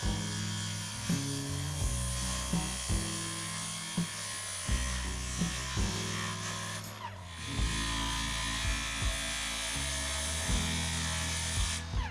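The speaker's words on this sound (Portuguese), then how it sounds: "usar minha tupia para fazer encaixe macho e fêmea nas tábuas" A wood router cuts tongue and groove joints into roof boards for a log cabin, a loud steady high-pitched whine broken by repeated short bursts as the bit bites into each pass, with no talk.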